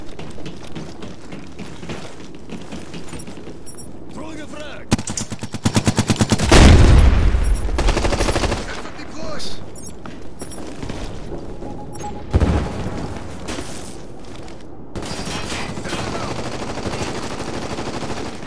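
Shots ring out in the video game Ghost Recon Future Soldier, with scattered single reports, then a rapid burst of automatic fire and booming blasts in the middle, followed by more intermittent shots and clattering mechanical sounds.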